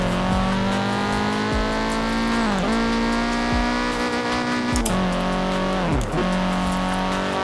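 An Audi TTS in Forza Horizon 4 revs hard through repeated gear shifts, its loud engine note rising and dropping several times with brief dips between pulls, no talking.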